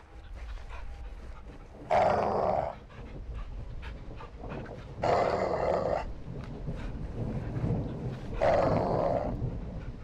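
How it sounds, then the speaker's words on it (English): A caged dog in the video game Modern Warfare 2 gives three loud, rough growling snarls spaced a few seconds apart over a low ambient background. "See the caged dog?"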